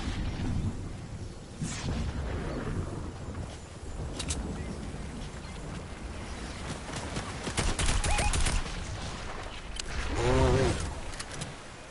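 Gunfire in a video game: scattered cracking shots and short bursts over a dense, noisy battle rumble, with a brief warbling tone near the end; sustained and fairly loud throughout.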